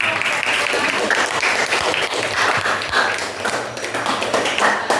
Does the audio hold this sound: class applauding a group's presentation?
yes